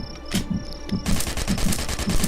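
Video game gunfire rattles off in rapid bursts, a few spaced shots first and then a dense, loud volley of automatic fire at close range, with no speech.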